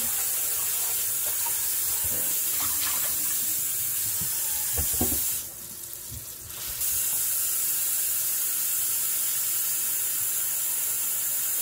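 Water is poured into a hot pot on the stove, making a steady hissing, rushing noise with a few splashes and clunks, briefly quieter midway before the steamy hiss resumes.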